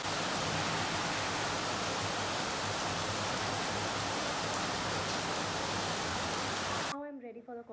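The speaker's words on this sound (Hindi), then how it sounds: "तो आई गेस बारिश पता नहीं कब तक रुकती है" Steady, dense rain pours down during a rainy day in Goa near Varca beach, a continuous loud hiss that runs uninterrupted for several seconds before cutting off abruptly as a voice begins speaking.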